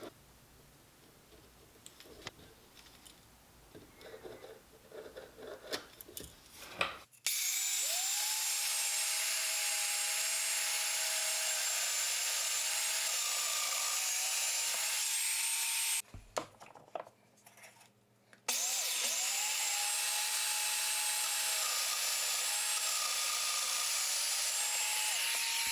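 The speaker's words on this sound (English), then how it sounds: "Now we've got our mortises cut." A Domino joiner plunging mortises into a wooden box with brad-nailed corners: two long, steady high-pitched motor whines, each running several seconds, follow some initial handling noise and are split by a short burst of clatter, close and loud.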